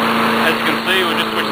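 A Billy Goat 4.75 HP four-stroke lawn mower engine runs at a steady, even idle, fairly loud and close, with a constant drone and no change in pitch.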